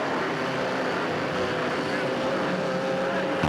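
Distant buzzing engines of 250 quad ATVs in the beginner B class racing on the frozen ice of Lake Winnebago, a steady droning whine carrying across the open lake with a brief bump near the end.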